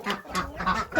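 Farmyard turkeys gobbling in short, loud, close bursts, several calls in quick succession with brief gaps between them.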